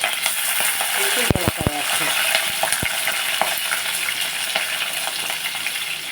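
Green chillies frying in hot oil for tomato peanut chutney, a loud steady sizzle and spatter with a few metallic clinks of a ladle against the pan early on.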